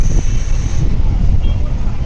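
A sea breeze at a hotel in Digha buffets the microphone with loud, low, rumbling gusts that continue without a break, while a voice is faintly present underneath.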